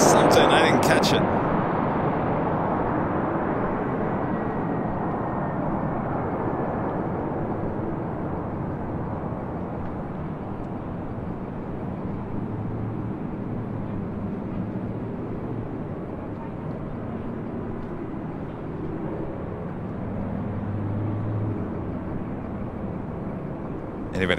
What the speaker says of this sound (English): That was Southwest Airlines Flight 930 coming in from San Jose, California in the 737-700.